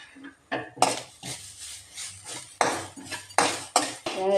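A spoon scrapes and clinks against a pan while grated coconut roasts with chilli and coriander powder, giving repeated close metallic scraping strokes in an irregular rhythm.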